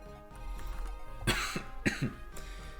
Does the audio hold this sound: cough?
yes